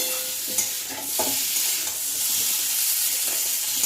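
Chunks of elephant foot yam sizzle in hot oil while a utensil scrapes and stirs them a few times, the frying hiss continuous and close.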